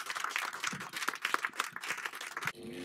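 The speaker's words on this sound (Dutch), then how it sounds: "Mag ik een applaus" Applause from a crowd at a Nakba gathering in Rotterdam's Botanical Garden, steady clapping that fills the space, fairly distant, then ends abruptly.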